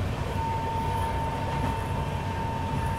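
The Mumbai–Delhi Tejas Rajdhani Express runs through Palwal station without stopping, a steady rolling rumble with a faint sustained whine, continuous and unbroken, heard from on board.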